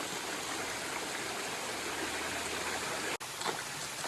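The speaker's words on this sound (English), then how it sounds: "It's waterfall after waterfall." Waterfall on a hike in Croatia, a steady broadband rush of falling water heard close and loud, with a brief dropout near the end.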